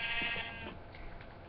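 A short, close video game sheep bleat sounds once at the start, bright and wavering, then trails off into quiet background noise.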